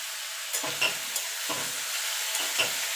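Gourd peel with salt and turmeric sizzles steadily in a hot pan, with three or four scraping stirs of a spatula sounding at a regular pace over the constant frying hiss.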